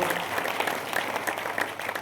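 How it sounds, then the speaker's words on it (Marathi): A kirtan audience breaks into loud, sustained applause to welcome the performing troupe, a dense, steady roar of many hands clapping close by. "एकदा जोरदार टाळ्यांचा कडकडाट करून त्यांचे स्वागत करा"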